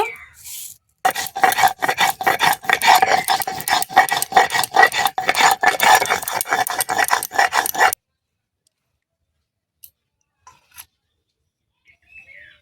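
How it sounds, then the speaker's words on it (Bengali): Mustard seeds are ground into paste for a Bengali tel koi fish curry, a close, rhythmic rasping scrape of stone on stone repeating quickly for about seven seconds before silence. "সর্ষে বেটে নেব"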